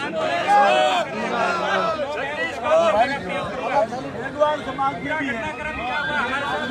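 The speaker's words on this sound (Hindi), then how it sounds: "किस तरीके से हजारों की संख्या में जो ये भीड़ है" A large crowd of thousands of Sawarna community members gathered at a protest, a dense continuous babble of many voices chattering at close range, with individual speech rising above the hubbub throughout.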